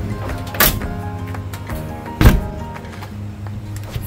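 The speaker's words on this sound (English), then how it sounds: "Now let's make sure that the door closes." A door swings shut with two solid thumps on a vehicle fitted with an Alu Cab fridge slide and Decked storage system. The thumps sit over a low steady background hum.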